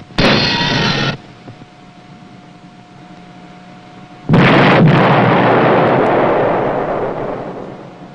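A submarine fires a torpedo and explosions follow: a short sharp burst of launch noise, a steady hum, then a loud broad blast that rumbles and slowly fades.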